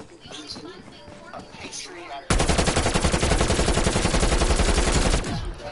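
Ray gun firing in a zombies shooter game, a loud, dense rapid burst of repeated shots lasting about three seconds after a stretch of talk and game noise.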